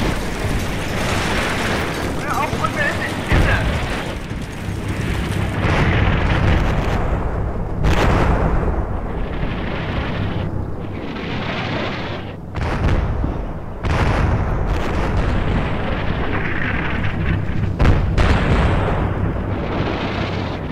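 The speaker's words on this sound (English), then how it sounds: "then the mortars can resume suppressive fires" Mortar rounds fire and explode in the Combat Mission Shock Force video game, heavy booms and sharp blasts arriving in irregular bursts over a rumbling battlefield, with a faint voice now and then.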